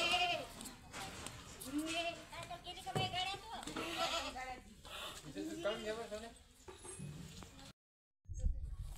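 A goat bleats several times in wavering calls in a rural household yard, mixed with ongoing conversation between people and a short silence near the end.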